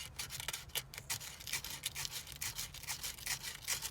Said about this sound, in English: I'm going to lightly push on that and just pull it back and forth to clean the back of the switch.